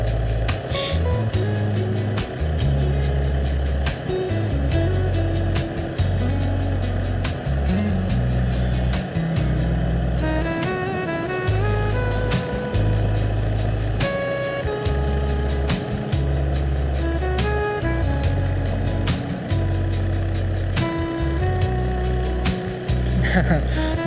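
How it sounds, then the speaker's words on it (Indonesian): A car strains uphill on a foggy mountain road to Takengon in Aceh with its engine working hard, giving a loud, continuous drone with shifting pitch that lasts throughout, close by and with no talking. "Mobil ini juga rupanya ngeden juga, bukan hanya kita rupanya guys."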